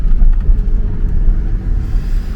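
A truck rolls across railroad tracks on a road, a steady low engine rumble with faint bumps, loud and close from inside the vehicle with no talking.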